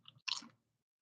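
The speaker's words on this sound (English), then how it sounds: "Nice satisfying crunch." Crunching bite of a Doritos Nacho Cheese corn chip: one sharp, close crackling crunch that follows a few softer chewing sounds and then fades to quiet.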